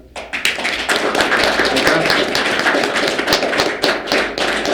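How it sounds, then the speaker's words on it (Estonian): A small gathering applauds Miikal at the close of a talk, with dense, steady clapping from many hands that starts abruptly and holds loud and even throughout. "siis üks aplaus Miikalile"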